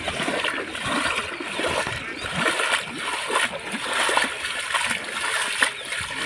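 Water splashes and sloshes continuously as someone moves through a flooded village lane after the first rain, close by with an uneven churning rhythm and no pauses.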